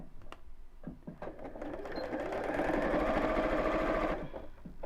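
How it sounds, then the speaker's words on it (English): A sewing machine stitches the long sides of a piece of fabric, starting with a few short taps and then running in one steady, fast whirring burst of a couple of seconds, close and fairly clear. "I'm going to sew the long sides, right sides together"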